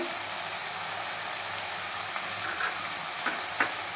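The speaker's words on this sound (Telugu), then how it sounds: "ఇప్పుడు మనము టమాటా వేసుకున్నాం అండి. కొంచెం పసుపు వేసుకున్నాం." Tomato frying with turmeric in a pan for a Tamil Nadu-style chicken curry gives a steady, close sizzle with a few faint scraping clicks from stirring, no talking.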